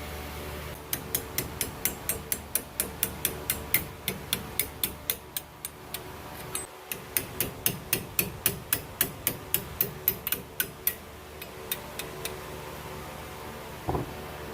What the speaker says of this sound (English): you punch these pins all the way through